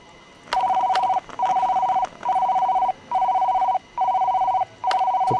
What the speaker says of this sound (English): So pressing the button triggers the phone. See how long it rings.